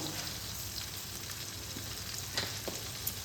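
Dry spice paste of Kashmiri chilli, coriander and cumin powder with salt being sautéed with a little water for a vegetarian pumpkin curry, giving a soft, even sizzle with a few light stirring taps near the end.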